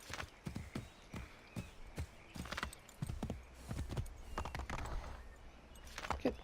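Horse hooves clip-clop in a video game, a quiet, uneven run of hoof strikes that speeds up and slows down over several seconds against a faint background.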